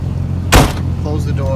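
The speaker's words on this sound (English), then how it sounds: "close the door" A Nissan Z32 car door swings shut with a single solid thump, close and loud, over a steady low idle-like hum from the parked sports car.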